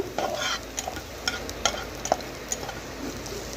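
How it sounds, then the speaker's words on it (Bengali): Chopped garlic and onion browning in a pan for a spinach and moong dal dish, a light sizzle punctuated by repeated sharp spatula clinks and scrapes as it is stirred. "রসুন কুচি আর পেঁয়াজ কুচিটাকে একটু লাল করে নেব"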